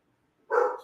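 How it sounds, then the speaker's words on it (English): A dog barks once at a delivery at home, a short, fairly loud single bark that is close by and comes out of near silence. "My dog is barking. Someone is delivering something."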